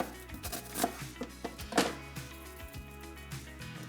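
Knife chopping onions on a cutting board, a run of uneven, close thuds and taps with short pauses between bursts.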